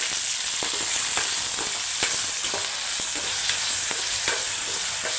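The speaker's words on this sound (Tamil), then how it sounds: "தக்காளியை நல்லா வதக்கிக்கலாம்" Tomatoes sauté in a pan for a chicken gravy, a continuous hiss of frying with repeated sharp scrapes and taps of a spoon stirring, close and steady with no talking.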